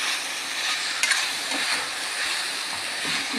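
Steady frying sizzle of turmeric sautéing in a pan with a soft stirring scrape, continuous and fairly loud, no voices.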